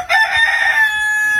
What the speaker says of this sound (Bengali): পোল্ট্রি আর মুরগি আছে, মুরগির বাচ্চা আছে ছোট ছোট।